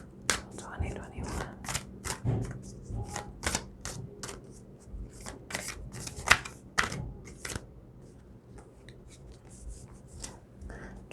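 Tarot cards are shuffled by hand in a series of quick, crisp riffling bursts, close and fairly soft, repeating irregularly with faint background hum.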